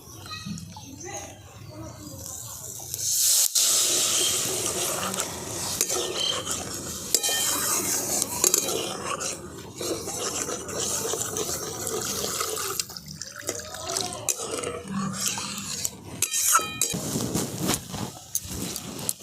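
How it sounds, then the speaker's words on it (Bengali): Water poured into a pan of fried spice masala for a tangra fish curry, a steady splashing hiss and sizzle running most of the clip over kitchen background noise. "দেখুন আমি খুব ভালো করে কষিয়ে নিয়েছি এরপর দিয়ে দিচ্ছি জল"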